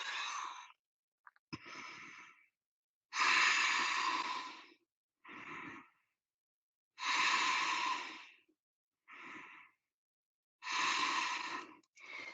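Slow, deep yoga breaths alternate between long airy inhales and exhales, about five full cycles with clear pauses between them, close and steady with no talking.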